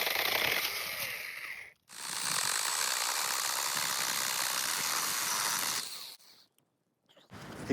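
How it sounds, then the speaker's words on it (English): A Wood Ranger mini chainsaw cutting through brush gives a loud, close, high-pitched buzzing whine in two bursts, separated by a short gap and ending in brief quiet pauses. "Real good all around little mini chainsaw here."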